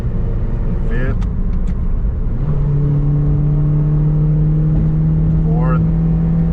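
A silver Toyota Matrix with a newly replaced CV axle drives along under load, its engine drone steady and close, with a couple of brief revs as it shifts gears.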